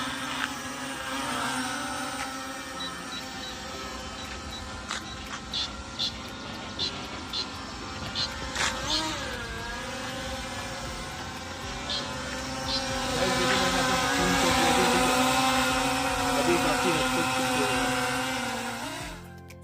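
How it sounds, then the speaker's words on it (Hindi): A cheap E90 camera drone hovers and drifts sideways while being trimmed, giving a steady high-pitched propeller whine that holds at a constant loud level, swells slightly toward the end, and is broken by a few short beeps. "तो हमारा जो ड्रोन है बहुत ज़्यादा गाइस ये राइट साइड में जा रहा है"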